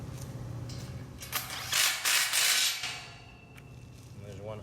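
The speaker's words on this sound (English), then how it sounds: "1-inch bolt. Take it, screw it in down here." A 1-inch bolt being screwed in by hand while fitting light tunnel spacers, giving a run of close ratcheting, mechanical clicks with a louder grinding burst in the middle.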